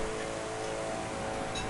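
A Koenigsegg Agera R engine drones in The Crew racing game, a steady, loud high-revving hum with sustained tonal whine and little variation across the short stretch, no talking.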